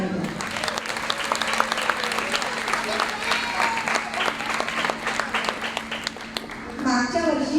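An audience at a Marathi school's Ganeshotsav celebration claps steadily for its teachers and volunteers. The applause is sustained and moderately loud, with some voices mixed in, and it ends in speech.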